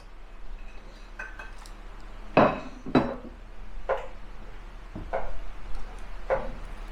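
Dry ingredients stirred into a pot of homemade ketchup, with a spoon knocking and scraping against the pot in a few distinct clinks and thuds over a quiet background.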